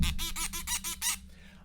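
A cheap Arkon phone tripod squeaks as it is moved: about six quick, rhythmic squeals in a row, close and fairly loud, then fading to a quiet room with no talking.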